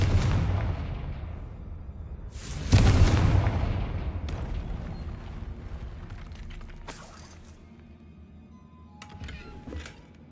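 Confringo spell explosions in Hogwarts Legacy burst out as loud booms, one at the start and a bigger one near three seconds, each trailing into a rumbling decay, followed by sharper cracks and a final blast near the end.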